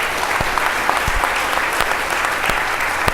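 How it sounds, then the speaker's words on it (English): Dense, sustained round of applause from an audience at a 2017 State of Downtown event, a full steady wash of clapping with sharper individual claps popping through, fairly close and continuing throughout with no talk. "let's give our special guest one more big round of applause"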